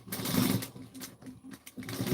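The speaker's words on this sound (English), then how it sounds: "I'm going to sew down the sides." A sewing machine runs steadily down the sides of a piece of fabric, its close, continuous mechanical whir pulsing with the rapid stitching, pausing briefly midway before picking back up.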